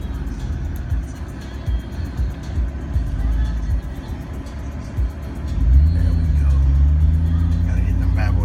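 Lowered 5/7 slammed GMC Sierra Crew Cab pickup rolling over a dip in the road, a deep engine rumble rising as it accelerates, with people talking nearby throughout.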